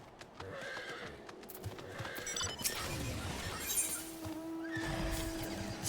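A horse mount in Final Fantasy XIV gives loud whinnies and neighs over clip-clopping hooves, with a brief crash partway through and game sounds around it.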